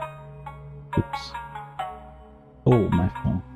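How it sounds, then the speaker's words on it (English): A phone alarm chimes in short tonal bursts over background music, with a person talking briefly near the end. "Oh, my phone. Alarm."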